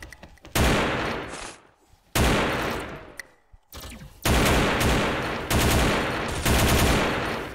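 AK rifle fire in the shooter game XSHOT comes in several long, loud automatic bursts separated by short gaps, dense rattling gunfire filling the clip, with no talking heard.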